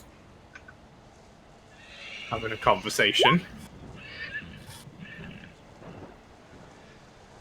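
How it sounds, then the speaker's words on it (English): A horse neighs loudly at close range, a skeletal warhorse summoned in a Dungeons and Dragons game, with faint hoof thuds, while people talk around it. "You hear a horse galloping towards you."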